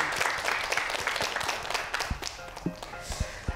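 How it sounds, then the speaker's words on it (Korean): A studio audience on a Korean math talk show applauds a guest. A wash of clapping thins out toward the end into a few separate, sharp claps. "오늘 함께해 주신 소장님께 다시 한번 큰 박수 보내주세요."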